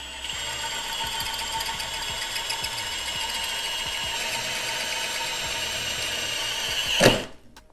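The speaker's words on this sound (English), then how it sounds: "when you get into drilling metal, it'll break this thing off instantly" A hole saw fitted with a washer grinds through metal in a continuous rattling, whining drill noise that builds to a sharp burst near the end before stopping.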